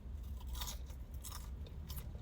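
Crispy Popeyes Cajun spiced fries crunch between the teeth inside a car, a quick run of close, crackly bites and chewing with no talking.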